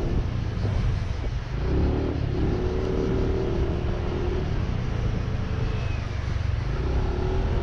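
2019 Yamaha Nmax 125cc scooter pulling away and accelerating, a steady, moderately loud engine drone with rising tonal whine and road rumble held throughout, no talk over it.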